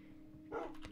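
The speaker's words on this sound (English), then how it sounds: "You dumb dog." A dog in the video game Minecraft gives a single short bark, faint and brief.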